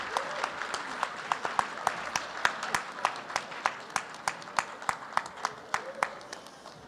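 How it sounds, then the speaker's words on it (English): Audience at a graduation ceremony applauding in a hall, a modest, fairly distant round of clapping with distinct individual claps standing out in a loose rhythm that carries on steadily. "Can we give another round of applause to our honorable doctor?"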